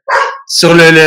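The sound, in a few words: dog barking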